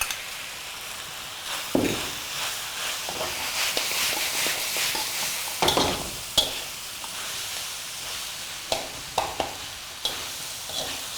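Chow mein stir-frying in a pan with oyster sauce over high heat: a steady sizzle broken by the clack and scrape of a spatula tossing the noodles.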